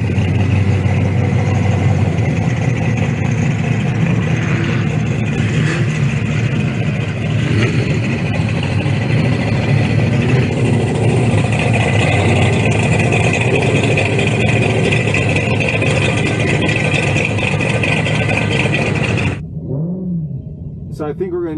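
A Toyota Corolla drag car with a swapped 350 V8 idles with a loud, steady, close rumble, a voice talking over it, before the sound cuts off abruptly near the end.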